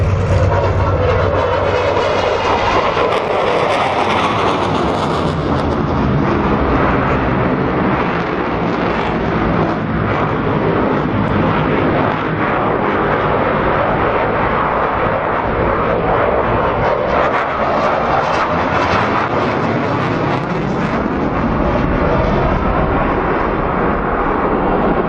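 A Dassault Rafale fighter jet flies at an air show, its engine roar loud and continuous for the whole stretch, swelling and shifting in pitch as it passes, with no talk.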